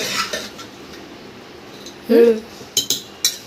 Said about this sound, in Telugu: తాలింపు వేసిన తర్వాత ఒకసారి పప్పును బాగా ఇలాగా కలిపేయాలి